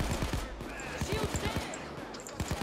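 Rapid automatic gunfire aimed at SWAT units in PAYDAY 2 rattles in quick, close, steady bursts throughout, with a brief pause midway, and people talking faintly underneath.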